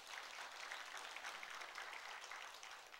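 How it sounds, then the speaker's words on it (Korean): A church congregation at a Sunday service gives encouraging applause for a new mission staff member, soft and fairly distant clapping that stays steady and low in level throughout. "박수를 한번 격려하십시오"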